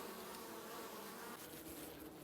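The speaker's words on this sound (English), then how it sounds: "So there are bees in the upper honey super." Honey bees buzz around a hive's upper honey super in a steady, dense drone, faint and continuous over the short stretch with no voices.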